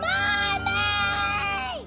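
A young boy screams in a dramatic film scene: one loud, sustained, high-pitched cry held close for almost two seconds, trailing off at the end.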